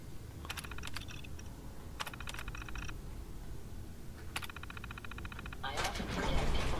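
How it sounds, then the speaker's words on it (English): Bursts of rapid keyboard typing come in three clusters while a terminal is accessed in the Fallout video game, with faint game ambience underneath and a swelling noise at the end. "I often forget people need to use the keyboard to access a terminal."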